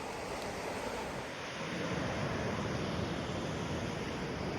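A river rushing along a rocky canyon on the Great Divide Trail, a steady broadband roar of flowing water that swells slightly midway, continuous and fairly distant, with no voices.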